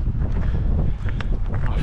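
Loud wind buffets the microphone in rough, continuous gusts, a roaring rumble with no voices, on a rainy hike in the Mourne Mountains.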